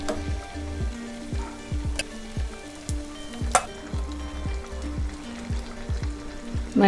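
Pumpkin poornam burelu, sweet stuffed fritters, deep-frying in hot oil, a steady close sizzle with crackling pops and bubbling throughout, and no talk.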